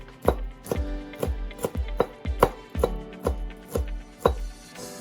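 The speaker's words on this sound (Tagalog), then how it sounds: "I-chop po natin ito ng maliliit." A knife chops food into small pieces on a cutting board while a salmon harasu sushi maki roll is prepared, about nine crisp, evenly spaced strikes close by with no talking.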